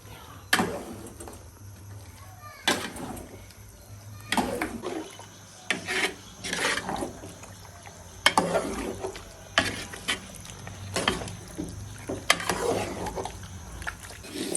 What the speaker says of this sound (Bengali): এই যে পোলাও চাউল ভাজতেছি বিরিয়ানির জন্য